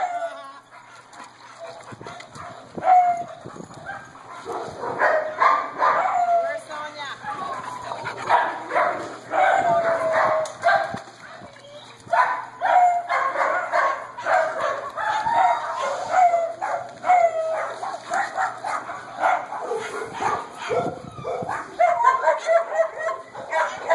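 A dog yips, whimpers and barks excitedly in short repeated bursts, fairly close, with bits of other sound in the background.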